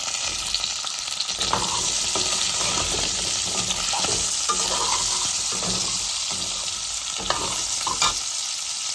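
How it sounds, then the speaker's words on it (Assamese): Cut potatoes being stirred into pork frying in a pan, a steady close sizzle with repeated scraping stirs of a spoon against the pan throughout. "ইয়াতে দি দিম মই কাটি থোৱা আলুখিনি"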